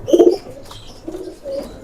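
A slim domestic pigeon raising young coos in low, rolling phrases: a strong burst at the start, then softer repeated coos, close to the microphone with no talk.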